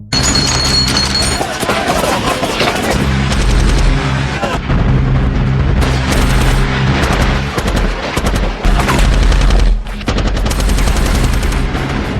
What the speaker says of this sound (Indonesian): datanglah tim penjemput yang langsung menghujani para musuh dengan peluru berkaliber besar